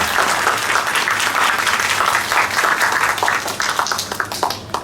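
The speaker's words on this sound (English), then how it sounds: "let's give a big round of applause for our Foundation Life team" Loud, sustained audience applause for a school team: many hands clapping in a thick, continuous wash that thins slightly toward the end.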